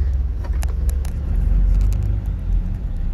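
A 1992 Nissan Caravan van with a TD27 diesel engine drives along, its low engine rumble and road noise filling the cabin closely, with a few faint clicks above the steady drone.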